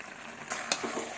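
Mutton kosha is stirred in hot oil with a brief soft sizzle that swells halfway through, marked by a sharp scrape of the spatula, heard up close with no talking.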